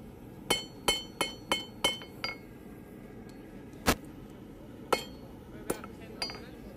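Hammer flattening hot metal on an anvil while forging a hook, a quick run of six bright ringing strikes followed by several spaced, isolated blows, close and sharp over a quiet workshop background.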